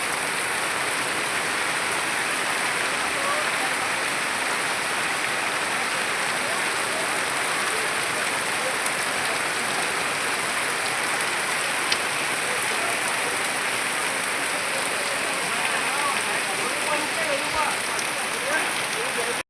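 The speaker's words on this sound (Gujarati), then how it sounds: "મિત્રો સતત એક કલાક ખતરનાક વરસાદ પડ્યો" Heavy monsoon-style rain pours down in a constant, dense hiss, drumming steadily on surfaces with no letup, an hour-long downpour.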